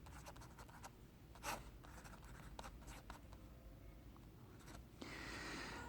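Pen writing out a physics solution for the energy of a revolving electron in the Bohr atomic model, a quiet continuous scratching of strokes on paper with a few brief taps, close and faint throughout.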